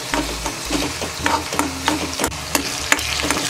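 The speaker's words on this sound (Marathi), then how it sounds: "थोडा 1 मिनिटासाठी आपल्याला कांदा व्यवस्थित असा भाजून घ्यायचा आहे" Onion with a little ginger-garlic paste sizzles steadily in a pan for a drumstick and potato curry, while a spatula scrapes and stirs it in repeated short strokes, close and fairly loud, with no talking.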